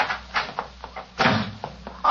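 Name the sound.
door slammed shut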